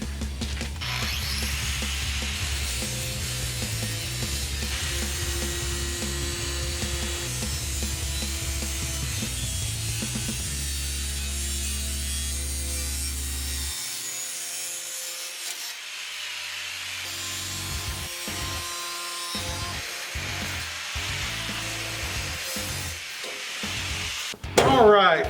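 A shallow cut through a plastic fender flare on a Jeep Cherokee XJ, trimmed to clear larger tires, with steady rasping and grinding from a power tool that runs loud and continuous for about 14 seconds, then breaks into shorter intermittent bursts.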